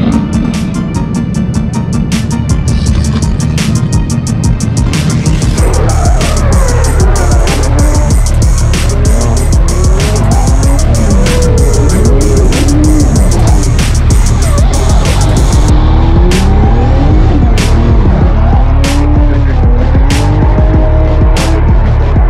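Drift cars sliding on the Sochi Formula 1 track, tires squealing in long, wavering screeches over loud, revving engines, several passes in a row, close and intense, with a rapid popping rattle early on.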